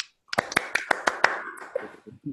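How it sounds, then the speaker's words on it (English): A handful of sharp, close hand claps, about seven in quick irregular succession, applaud a talk in an online meeting, then fade into faint room noise. "we'll give Matt a round of applause for a very nice little talk"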